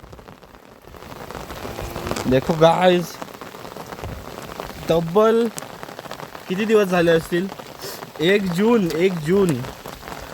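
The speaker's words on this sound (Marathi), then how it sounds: "भरपूर दिवसाने आमच्याकडे पाऊस आलेला आहे" First monsoon rain pours steadily in a steady hiss across surfaces, continuing without pause while someone talks loudly over it for most of the stretch.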